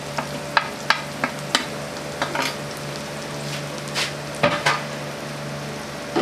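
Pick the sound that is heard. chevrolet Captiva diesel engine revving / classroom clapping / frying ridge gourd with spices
frying ridge gourd with spices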